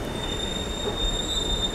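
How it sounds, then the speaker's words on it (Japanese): A former Tokyo Marunouchi Line subway train pulls into a Buenos Aires metro platform with a loud, sustained high-pitched wheel squeal and steady rumble, close by and uninterrupted. "早速来ました、元 A 団の丸の内線で活躍していた車両です。"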